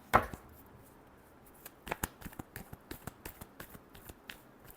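Tarot cards being shuffled, a sharp riffle at the start followed by a string of soft irregular taps and flicks, close and quiet, with no talking.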